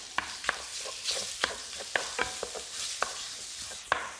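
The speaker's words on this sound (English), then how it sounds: "So we want to brown that up, render all that fat out of that sausage." Crumbled sausage browns and sizzles in a pan, rendering its fat, while a wooden spoon stirs and scrapes it in quick, irregular knocks over a steady frying hiss, close and fairly loud.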